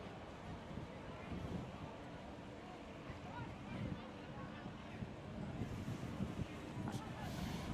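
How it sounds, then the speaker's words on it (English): Racing powerboats at the Great Lakes Grand Prix in Michigan City, a steady low engine drone and water rumble with wind buffeting the microphone, continuous and fairly distant throughout. "Now we've got 14 boats coming out."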